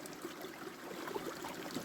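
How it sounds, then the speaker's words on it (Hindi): Clean spring water runs steadily in a forest setting, a soft, continuous trickling wash at moderate distance with no voices over it. "ये स्रोत का पानी है भाई बिल्कुल साफ बांझा जड़ू पानी।"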